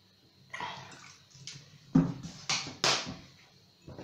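Water is poured into a pot for cardamom milk tea, heard as several short splashing bursts and trickles, close and fairly soft, with pauses between pours.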